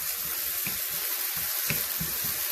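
Garlic and onion sizzle in a hot pan on lowered heat while being stirred, a steady frying hiss with soft, irregular scraping and stirring thumps running throughout.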